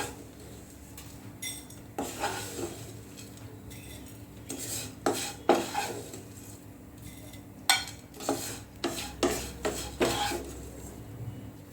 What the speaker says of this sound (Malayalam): നമുക്കിതൊരു പാത്രത്തിലേക്ക് മാറ്റാം.